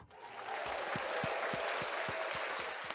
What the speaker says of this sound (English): sorry for the delayed claps